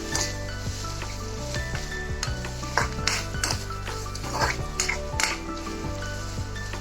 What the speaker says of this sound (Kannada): ಸ್ವಲ್ಪ ಎಣ್ಣೆ ಬಿಟ್ಕೊಳ್ಳೋವರೆಗೂ ಫ್ರೈ ಮಾಡ್ಕೊಳ್ಳಿ.